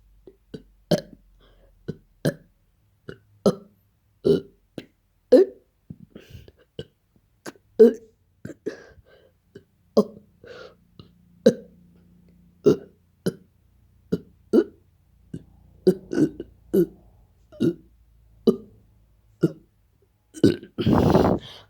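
Fake burps voiced one after another to spell out the alphabet, about two dozen short, croaky belches in a steady rhythm, close and loud, with a longer rasping burst at the end.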